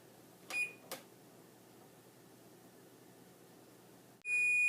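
An oven timer being set gives two short electronic beeps near the start, then a low hum, and a longer, louder sustained beep tone at the end.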